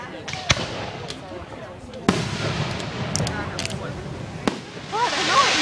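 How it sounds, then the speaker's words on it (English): Fourth of July fireworks going off outdoors, with several sharp distant bangs and crackles spread over a steady murmur of people talking nearby. "enjoy the 4th of July fireworks"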